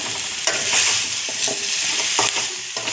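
Pumpkin pieces and curry leaves frying in a pan, a steady close sizzle with a few scraping stirs, no talking.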